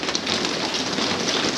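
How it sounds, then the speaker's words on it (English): Steady rain falls on a surface outdoors on the Vancouver Island coast during a storm, forming a dense, even hiss of close raindrops with no voices. "hopefully rain will taper off a bit again"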